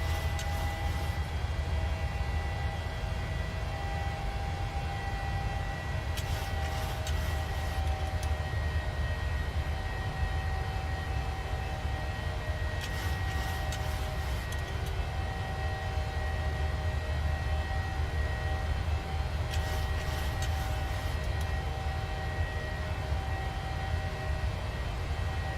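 PMDG 737-900 jet engines at climb power in a flight simulator, a steady loud broadband roar with a low rumble and faint tonal whine throughout, with a few brief hissing swells overlaid.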